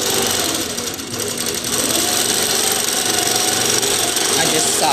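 A 2013 Millie longarm quilting machine stitches an allover Enchanting Feathers pattern under Quilt Path control, giving a loud, steady mechanical hum and rapid needle chatter that runs without pause from start to finish.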